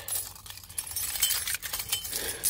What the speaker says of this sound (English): take the keys out